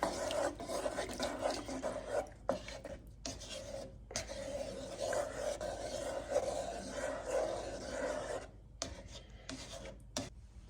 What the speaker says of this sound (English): 2 teaspoons of salt, 3/4 of a teaspoon of basil, 1 bay leaf. I'm going to stir this all in.